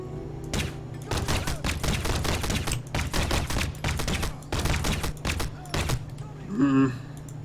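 Suppressed gunfire in the video game Crysis, heard as a rapid run of sharp, muffled shots in quick bursts at steady volume, ending in a brief louder clatter.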